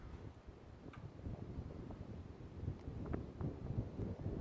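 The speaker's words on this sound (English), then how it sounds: "Now the wind is blowing." Wind buffets a microphone atop a tower at sunset, a faint, steady low rumble with slight gusting.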